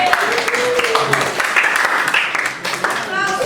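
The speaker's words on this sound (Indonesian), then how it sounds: "Tepuk tangan dulu yuk." A classroom of students claps briefly during a maths lesson, scattered and fairly light, mixed with children's voices chattering over it.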